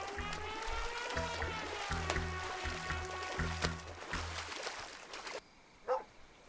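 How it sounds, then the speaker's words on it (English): In the video game Swords and Sworcery, a dog barks repeatedly in a steady rhythm of short woofs over atmospheric game music with chiming tones, the barking stopping before a last faint sound near the end. "He's barking at the moon, isn't he?"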